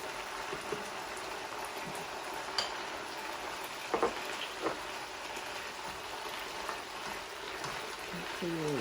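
Minced pork stir-fried with holy basil in a hot pan gives a constant crackling sizzle, with a few sharp scrapes and clinks from the spatula scattered through it, heard alone.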